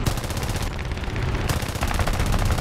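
Rapid machine gun fire from a P-26A-33 fighter plane in War Thunder air arcade combat, a continuous loud rattling burst running steadily throughout.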